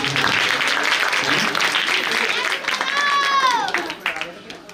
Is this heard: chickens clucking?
no